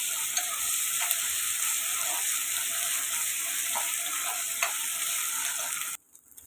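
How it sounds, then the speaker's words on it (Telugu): Ginger garlic paste sizzles steadily in a pan with golden-brown onions for a chicken curry, a continuous bright frying hiss with faint stirring clicks, close and unbroken until it cuts off abruptly near the end. "ఇందులోకి 1 స్పూను అల్లం వెల్లుల్లి పేస్ట్, ఇది కూడా పచ్చివాసన పోయేదాకా ఫ్రై చేసుకోవాలి."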